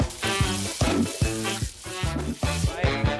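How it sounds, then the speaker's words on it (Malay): A ham and cheese sandwich fries in a pan, steady sizzling under a rhythmic series of clattering, ringing knocks of utensils against the cookware, loud and close. "Prepare curing ham de keju, and yang tinggal hanyalah untuk menggoreng."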